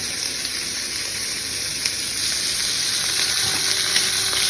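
Rosemary and garlic sizzling hard in a hot pan alongside beef steak, a steady loud hiss and crackle with occasional pops, close and continuous with no talking.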